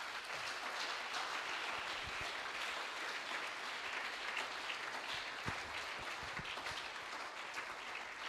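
A church congregation at a worship service applauds and acclaims the Lord, a steady wash of distant clapping and crowd noise that holds at an even level, fairly faint, without clear speech.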